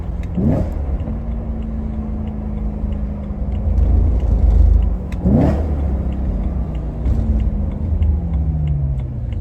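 A BMW E90 M3 with a six-speed manual swap accelerates hard through several gears, the engine revving up loudly, dropping sharply at each shift and pulling again, heard close from inside the car with no talk.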